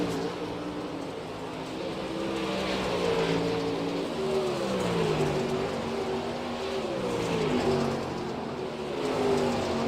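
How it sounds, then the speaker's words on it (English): Several dirt-track race cars rev and accelerate around a dirt oval, engine notes rising and falling as they pass at a moderate distance, a steady loud roar throughout. "Lots of cars on the racetrack"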